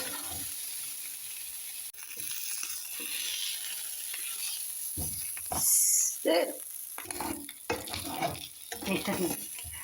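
Food frying in oil in a pan and being flipped, with a steady sizzle running throughout and sharper scraping and clattering bursts in the second half as the pieces are turned.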